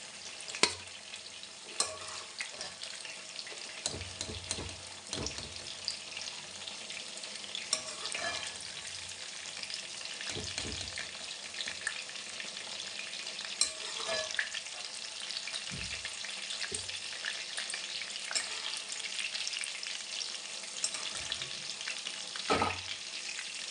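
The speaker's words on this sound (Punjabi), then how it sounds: "ਲੋ ਜੀ ਬੈਂਗਣ ਆਪਣੇ ਫਰਾਈ ਹੋ ਗਏ ਕਿ ਬਹੁਤ ਸੇਤੀ ਬੈਂਗਣ ਫਰਾਈ ਹੁੰਦੇ ਨੇ" Eggplant fries in hot oil for potato-eggplant curry, a continuous dense sizzle with occasional clinks and scrapes of stirring, close and steady throughout.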